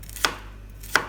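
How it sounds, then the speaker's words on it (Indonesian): Two sharp knife chops on a cutting board while vegetables are sliced for sayur sop, spaced well apart, close and crisp over a faint steady hum. "Pisau dan talenan yang saya pakai keluaran dari stand cookware ini enak banget,"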